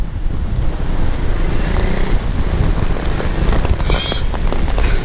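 Wind gusts across a wide expanse of floodwater from an overflowing river in Balungao, Pangasinan during Typhoon Maring, a loud, continuous rushing with buffeting wind noise on the microphone and churning water beneath.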